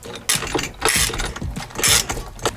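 Steering wheel puller being wound down its center bolt on a 2008–2014 Subaru WRX, a close, loud run of metallic ratcheting clicks and gritty turning in uneven bursts.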